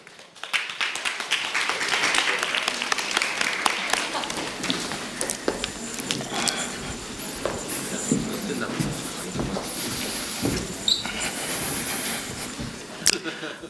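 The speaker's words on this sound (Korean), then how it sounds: "큰 박수로 맞이할까요?" Audience applause at a university research presentation event welcoming a life sciences speaker, a fairly close, uneven patter of many hands that thins out over the span, with scattered sharper claps and some voices.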